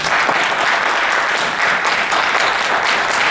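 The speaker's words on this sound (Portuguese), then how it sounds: "De uma salva de palmas para quem está por aqui" Audience applause at a cultural seminar in Mogi das Cruzes, a steady dense wash of many hands clapping at full strength throughout, with no voices over it.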